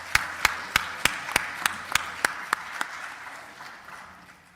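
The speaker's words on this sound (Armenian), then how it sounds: "Առաջարկում եմ ծափահարենք։" Applause made of about ten sharp, evenly spaced claps at a steady beat, fading toward the end, with no talking over it.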